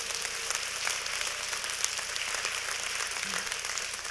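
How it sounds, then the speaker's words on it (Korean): An audience at a lecture applauds steadily, a moderate, even wash of clapping that holds for the whole stretch. "박수 한번 주시죠."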